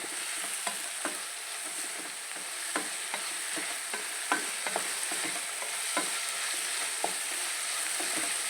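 Jackfruit seeds stir-fried with garlic and turmeric sizzle steadily in a pan, with a spatula scraping and tapping in irregular, close clicks over the continuous frying hiss, no voices present.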